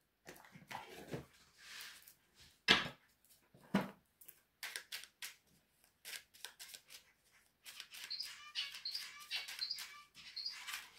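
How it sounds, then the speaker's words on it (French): Pet birds singing indoors in a warm room, bright chirps and trills scattered through the clip, with sharper repeated tweets bunching toward the end amid some clicks and rustles. "En tout cas, mes oiseaux, ils chantent."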